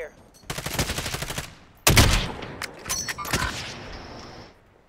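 Gunfire in a multiplayer shooter: loud bursts of automatic fire, then a heavy blast and further rapid shots that fade out, with faint voices underneath.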